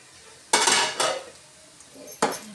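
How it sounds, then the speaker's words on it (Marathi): A metal lid is lifted off a pot of sabudana khichdi on a low gas flame. Two sharp metallic clanks come close together, and a third follows a moment later, all nearby in a quiet kitchen. "हे बघा मी ढाकण काढून चेक करून घेते."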